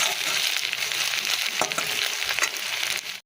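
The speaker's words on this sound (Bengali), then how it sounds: "এই যে কচু আলু একদম মশলা দেবো না শুধু একটু পেঁয়াজ ফোড়ন দিলাম আর টমেটো দেবো নুন লঙ্কা হলুদ দেবো এটা লাল লাল করে ভাজা হোক" Taro and potatoes fry with onion in oil, giving a steady, loud broadband sizzle with a few sharp clinks of a utensil against the pan. It continues without talk and cuts off abruptly at the end.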